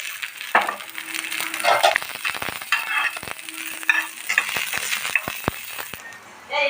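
Garlic sizzles and crackles in hot mustard oil while a utensil stirs and scrapes against the pan, with occasional sharp taps and clatter.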